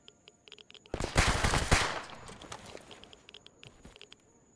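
Enemy gunfire in the video game S.T.A.L.K.E.R. arrives as a loud, rapid burst of shots lasting about a second, with scattered lighter impacts and clicks before and after it.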